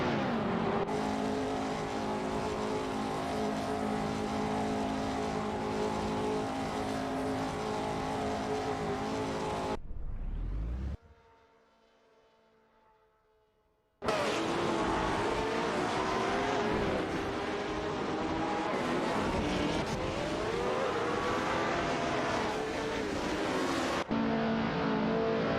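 Race cars roaring around a track in an AI-driven video game race, loud sustained engine drone with shifting pitch as cars pass, briefly dropping to a quiet lull before the engines surge back in.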